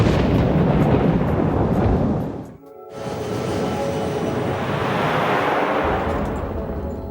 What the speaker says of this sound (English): they are heading straight into the heart of the thunderstorm